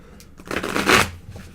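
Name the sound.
riffle shuffling a tarot card deck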